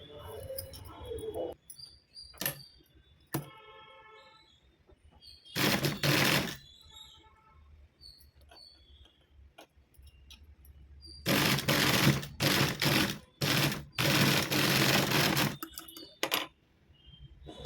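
A sewing machine stitches a latkan onto blouse cloth in bursts of rapid mechanical whirring, one short run early and a longer run later, separated by quiet gaps with small clicks and handling sounds nearby.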